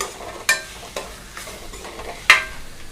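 Vegetables sautéing in a pan for a mixed rice dish, a soft sizzle broken by a few sharp utensil scrapes and taps, close up with no talking.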